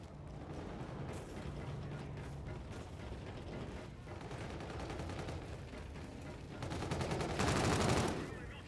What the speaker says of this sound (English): Oh god, and they're shooting at me.